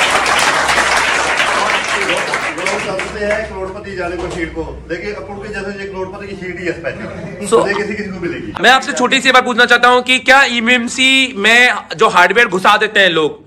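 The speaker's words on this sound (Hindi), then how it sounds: "जो तालियां हो जाए" A burst of applause fills the first few seconds, then fades as people start talking over it.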